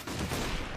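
Gunfire in CS:GO forms a brief, dense wash of overlapping shots, steady and fairly loud throughout the short moment, with no voices.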